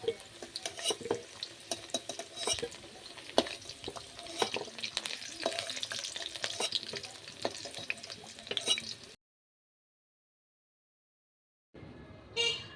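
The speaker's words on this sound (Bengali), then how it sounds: "আলুগুলো ভালো করে লাল করে ভেজে নিয়েছি। এবার আলুগুলো তুলে নেব।" Potatoes fry in hot oil and are lifted out of the pan, with continuous close sizzling and bursts of scraping and clinking from a utensil, then a stretch of silence before the sizzle briefly returns.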